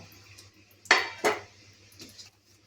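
A metal lid goes onto a cooking pot on the stove while gulab jamun is being made, giving two sharp clanks in quick succession, close and fairly loud, followed by a faint rattle.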